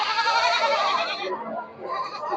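Goats bleat continuously in a crowded livestock market, many overlapping calls filling the air loudly, with a quieter stretch before more bleating resumes.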